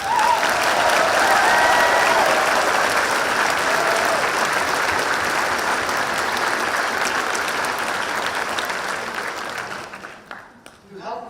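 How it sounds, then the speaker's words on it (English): Sustained applause from a large crowd at a white coat ceremony in a hall, loud and steady for several seconds before tapering off into a few last claps. "Let's give our Tigers another round of applause."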